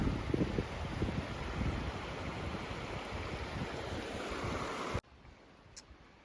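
Medicine Tent River flows along a backpacking trail, a constant broadband rush mixed with gusty wind buffeting, which cuts off near the end to a quiet background.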